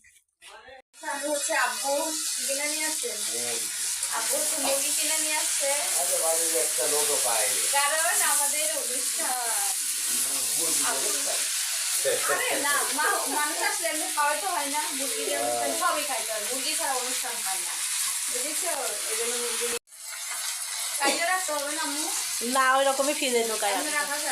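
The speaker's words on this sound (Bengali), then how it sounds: "এই টমেটো ভাজি হয়ে গেছে" Tomatoes frying in a pan while an ilish fish curry is being cooked, giving a steady sizzle that runs almost throughout, with a brief break near the end, under continuous talking.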